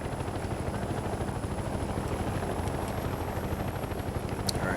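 A steady, close helicopter rotor drone from the Mercenaries 2: World in Flames video game, with a constant rhythmic thrum and no voices over it.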